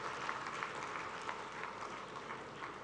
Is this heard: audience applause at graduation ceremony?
yes